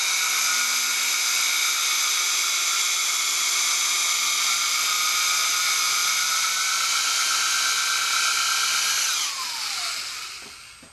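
A JetStream Rotocork tool runs at low RPM against an alpine ski, giving a steady, loud high-pitched whine that holds for most of the clip and then drops in pitch as it spins down near the end.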